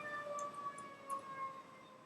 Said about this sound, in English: We got like ambulance and stuff going around town, city of San Francisco.